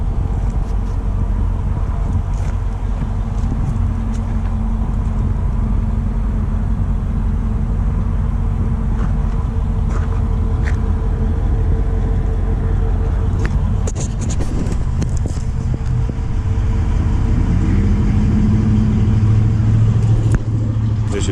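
A 2021 Dodge Durango R/T engine idling with a loud, steady low rumble, picking up slightly toward the end as it revs, with a few clicks and knocks over the drone.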